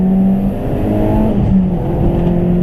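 Renault Clio 197 pulling away hard on a country road, its engine rising through the revs in a close, loud drone with a quick gear change partway through.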